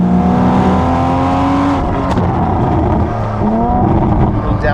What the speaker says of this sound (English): Little downshift, little pops and bangs.